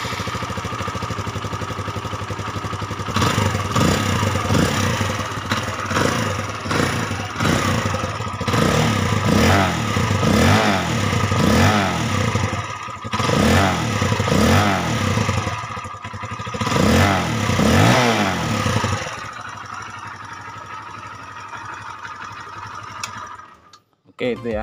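A stock Kawasaki D-Tracker motorcycle with its standard exhaust starts up and revs in a series of rising and falling bursts, loud and close, before idling down and cutting off.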